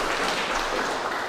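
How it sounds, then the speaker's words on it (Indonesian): Steady, dense applause rises from a church congregation at an Easter service, a brief continuous burst of many hands clapping with no talking. "meriah tepuk tangan untuk Tuhan Yesus yang sudah bangkit untuk kita"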